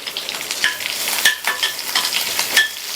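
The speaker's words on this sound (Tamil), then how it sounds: "எல்லாத்தையும் வதக்கி விட்டுட்டு நம்ம பச்சடியில் சேர்த்துடலாம்." Curry leaves, garlic and dried red chillies sauté in hot oil for a gooseberry and tomato pachadi, giving a steady close sizzle broken by sharp scrapes of stirring, with no talking.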